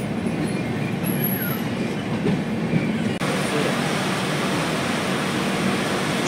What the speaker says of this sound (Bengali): ট্রেন নলবাড়ি স্টেশন থেকে 4:23 ছেড়ে তার পরবর্তী গন্তব্য বরপেটা রোডের উদ্দেশ্যে রওনা হলো